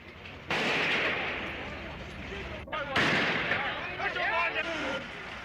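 Gunfire in a 1972 street gun battle in Belfast comes as rough, echoing cracks and rumbling blasts, with a voice narrating over the din throughout.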